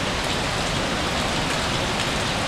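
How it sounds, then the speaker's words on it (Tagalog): Heavy rain pours steadily without a break, a dense close hiss of drops drumming on surfaces, loud and constant throughout with no voices. "kanina pa po yung ulan na yan"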